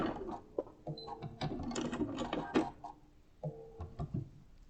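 A sewing machine runs in short bursts of stitching as shadow quilting is added along a seam of a hot pad, motor whirring close and loud with brief pauses between runs.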